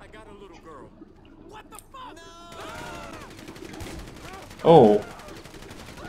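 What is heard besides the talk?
shotgun fire in FivePD, a GTA V police mod (video game)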